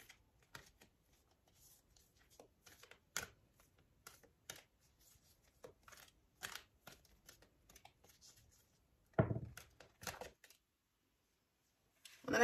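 Tarot deck shuffled and cut by hand, quiet close card flicks and riffles coming in short irregular bursts with gaps of near silence, one fuller riffle around the middle.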